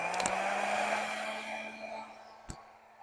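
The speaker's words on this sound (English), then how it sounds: "hairdryer on low with my cold shot button in" A hair dryer on low with the cold shot button held blows steadily with a constant whir and hum over acrylic pour paint, tapering slightly toward the end, broken by a sharp click.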